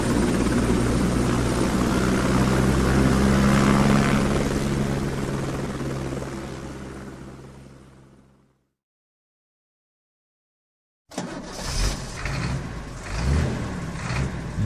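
A military helicopter on an army base, its loud rotor and turbine roar holding steady before fading away into silence, after which louder rumbling vehicle noise returns.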